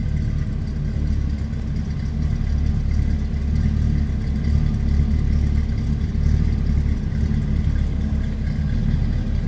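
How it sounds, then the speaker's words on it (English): A 1967 Oldsmobile Cutlass Supreme built as a 442 tribute idles with a deep, throaty exhaust note, a steady low rumble that holds close and loud for the whole stretch with no talking over it. "sounds healthy, nice deep throaty exhaust note"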